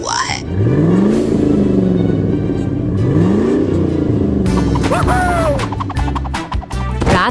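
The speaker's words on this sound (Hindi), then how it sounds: "मॉन्स्टर ट्रक सुनसान रास्तों से गुजरता है" A monster truck rolls along deserted roads at night amid crackling lightning, its engine rumbling and revving loudly with rising and falling pitch sweeps, joined later by sharp clattering bursts.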